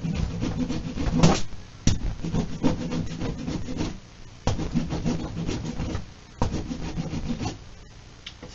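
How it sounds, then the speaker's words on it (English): A hand rasp files a piece of wood back and forth in repeated rough scraping strokes, close and fairly loud, with short pauses between passes. "Just using that rasp, just work it back and forth."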